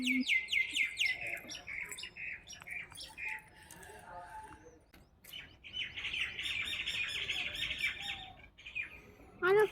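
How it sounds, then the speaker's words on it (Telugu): Morning birds in a village chirp and call in quick, bright bursts and trills, with occasional harsher squawks. The birdsong swells and fades, is busiest near the end, and has no talk over it. "మార్నింగ్ బర్డ్ సౌండ్స్ ఎంత బాగుంటాయో చూడండి"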